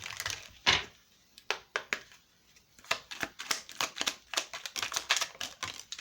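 Small tarot-style reading cards being shuffled in quick, crisp bursts of riffling and slapping, close by and moderately loud, with brief pauses between.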